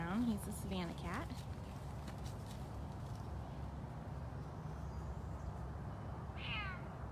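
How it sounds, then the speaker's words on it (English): A Savannah cat meows in the background, with a few short, fairly faint calls at the start and again near the end over steady low room noise. "He's the one you've been hearing in the background. He's a Savannah cat."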